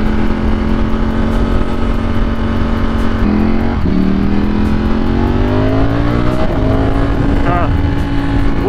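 Ducati Streetfighter motorcycle fitted with a new 520 chain and sprocket, accelerating on an open road: loud, close engine roar climbing through several gear changes, with heavy wind buffeting and a rider's voice now and then.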